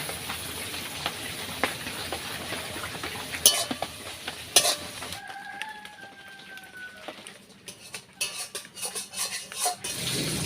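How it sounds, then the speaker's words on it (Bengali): Onions with a pinch of salt cook in a pan, a quiet crackling sizzle with occasional louder stirring knocks; midway a thin tonal whine rises briefly, then the frying turns softer and patchier. "পেঁয়াজটা আমি ভালো করে ভেজে নেব।"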